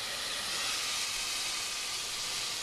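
Red wine vinegar poured into a hot pan gives a loud, steady, bright hiss that holds evenly throughout without a break.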